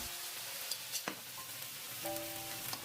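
Tofu and sauce sizzle in a hot pan over high heat in Chinese-style cooking, a faint steady frying hiss with a few soft clinks and stirring sounds, no speech.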